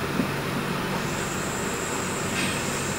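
The KA 104 Malioboro Ekspress night train running, a steady broadband rumble and rushing noise heard from inside the carriage with a faint high whine, continuous and even throughout.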